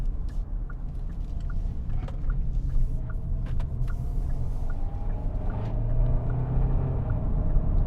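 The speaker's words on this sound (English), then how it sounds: "that's probably the first time you've heard the engine in this video" A Kia Sorento's engine hums as it drives, a steady low rumble with road noise inside the cabin, fairly quiet and continuous, with a slight rise in tone toward the end.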